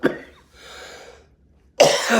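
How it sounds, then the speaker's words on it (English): A single cough, then a pause and a second, harsher cough close to the mic, with no talking. "here I am coughing again"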